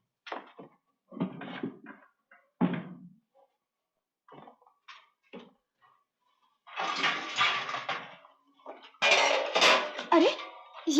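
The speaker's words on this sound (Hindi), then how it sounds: "सारे बर्तन क्यों घसीट रहे हो?" Metal pots, pans and utensils clatter and scrape in a village home, bursts of dragging and clanking that grow louder and denser toward the end, with brief pauses between.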